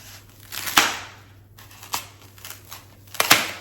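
A blade cuts through an old foam pool noodle, making a few sharp, close snipping and crunching sounds spaced apart over a faint background hum.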